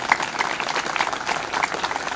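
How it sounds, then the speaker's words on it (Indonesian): Scattered clapping from an audience at a talk, a moderate, steady patter of hands with no one speaking over it. "Tepuk tangan loh."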